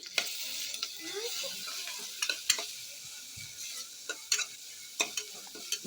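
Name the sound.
frying fresh ginger garlic paste with turmeric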